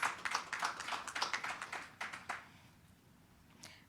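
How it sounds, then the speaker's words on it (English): Brief, faint applause for a high school student performance at an education symposium: a handful of close hand claps in a quick patter that thins out after two seconds, leaving near silence with one last stray clap. "Kindly give them another round of applause."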